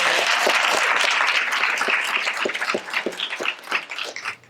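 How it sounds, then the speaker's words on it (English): Audience applause at the Redline film premiere: a dense, loud wash of many hands clapping that thins over a few seconds into scattered, individual claps. "big round of applause."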